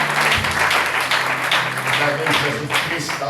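A church congregation applauding, steady dense clapping that fills the space throughout, with voices mixed in underneath.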